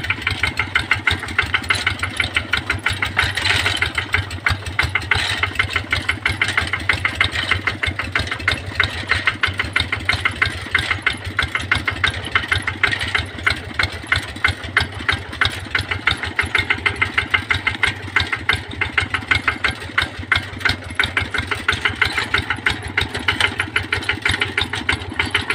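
An RT110 tractor engine runs while ploughing a dry, hard-packed field to prepare soil for chili planting, a loud, steady, rapid chugging that holds without break throughout.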